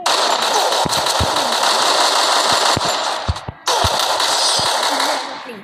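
Rapid bursts of revolver gunfire ring out in a video game, loud and continuous with sharp individual shots and a brief pause partway through; no talk.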